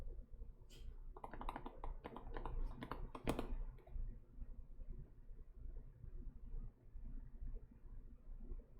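Rapid mechanical keystrokes on an OTD 360 Corsa keyboard during a typing test, a quick flurry of clicks for a few seconds, then only a low background hum.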